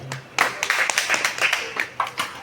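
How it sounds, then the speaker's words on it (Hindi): Steady clapping from a group at a Kanpur Metro International Women's Day event, a few hands beating in uneven rhythm close by, with a voice briefly heard at the start. "मैं चाहूंगा कि आप सभी लोग तालियां बजा दें।"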